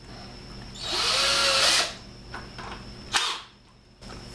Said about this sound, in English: now I'm going to screw these in